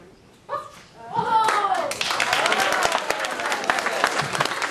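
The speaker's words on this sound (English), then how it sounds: "Round of applause for all the great dancers, guys" Crowd applause and clapping for breakdancers at a b-boy championship in Yukon, building from a few claps into sustained, loud applause with cheering voices mixed in.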